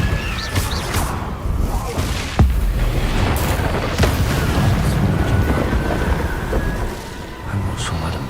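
A Confringo fire spell explodes in Hogwarts Legacy, a loud booming blast among other rumbling combat impacts and crackles, with steady game ambience throughout.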